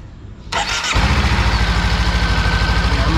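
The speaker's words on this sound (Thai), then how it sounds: "ก็ให้เราสตาร์ทเครื่องนะ" A Honda CB500F motorcycle engine cranks briefly, then catches and settles into a close, loud, steady idle with an even pulsing rhythm.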